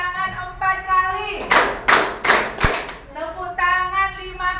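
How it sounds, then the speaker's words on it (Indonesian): A group of children in a classroom clap their hands in unison four times, each clap a sharp, loud burst in an evenly spaced rhythm, with a sustained adult voice heard before and after the claps. "tepuk tangan 4 kali"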